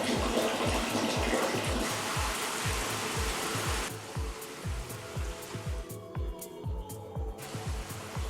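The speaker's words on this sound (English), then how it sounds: "Turn on water to see if there's any leaks" Water runs steadily from a newly installed Forious FF0023C kitchen faucet, a continuous hiss over a repeating low thumping pulse, fairly close, with no voices.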